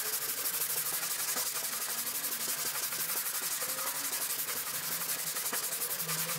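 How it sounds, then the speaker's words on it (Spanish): Hand sanding wood with 100-grit sandpaper, a continuous loud, even rasping rub with a rapid back-and-forth rhythm that runs unbroken throughout, no voices. "Una vez que hayas terminado de lijar con el grano 100,"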